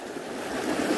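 Stream water rushes over large rocks in a steady, dense broadband wash, close and alone without talk.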